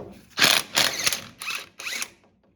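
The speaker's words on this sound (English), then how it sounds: "So now we can proceed to removing the top bolt and nut" A ratchet works a 14 mm bolt and nut free from the alternator on a Toyota Tundra, heard as four close, loud bursts of rapid clicking separated by brief pauses.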